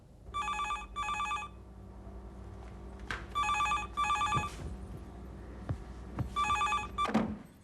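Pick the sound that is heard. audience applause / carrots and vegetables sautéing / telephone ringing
telephone ringing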